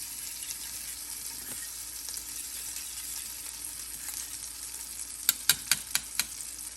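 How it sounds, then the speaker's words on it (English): Unsalted butter melting in a pan on the stove gives a steady, faint sizzle and hiss, with a few sharp clinks near the end. "I'm going to add about a tablespoon of unsalted butter, and I'm going to let that melt"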